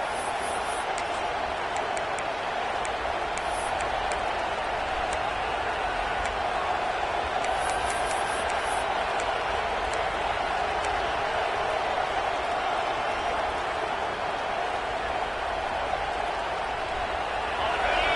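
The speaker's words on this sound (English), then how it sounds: "This crowd trying to make life miserable for this offense." Steady roar of a football stadium crowd at an Arkansas game, a dense continuous wash of cheering and noise under a commentator's play-by-play voice, with faint whistles or shrill accents now and then.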